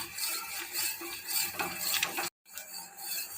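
A spoon stirs banana caramel pudding as it thickens in a pot, making soft, quiet scraping and sloshing close by. The sound cuts out for a moment and then resumes.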